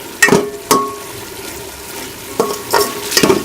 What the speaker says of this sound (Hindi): ये हम चिकन डाल के इसको 1 से 2 मिनट भून लेंगे